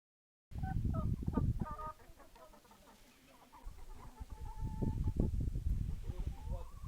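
Chickens cluck in a village yard in Ukraine's Kyiv region, with several birds giving short repeated clucks and calls at close range, busy at first, then quieter before picking up again.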